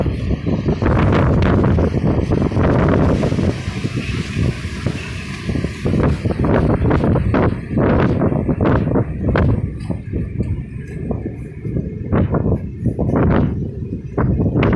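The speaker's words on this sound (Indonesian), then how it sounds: "Angin sekitar 15 knot." Wind of about 15 knots blows across the open top deck above a ship's bridge in cold, snowy Russian weather, producing a loud, gusty rumble against the microphone with uneven buffeting bursts throughout and no talking.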